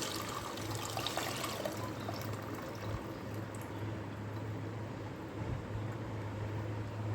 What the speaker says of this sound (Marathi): आता आपण जे खेकड्याचं पाणी आहे ते याच्यात ओतूया जे नांग्यांचं पाणी होतं गाळून घेऊ आपण ते